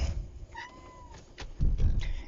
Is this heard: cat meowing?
yes